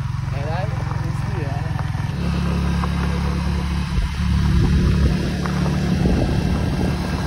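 A motorcycle engine runs close by with a low, steady throbbing hum whose pitch shifts partway through. People talk over it.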